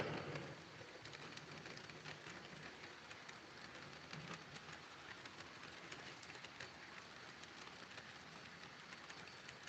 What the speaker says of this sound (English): Work train on the move. Yep, here it comes right now.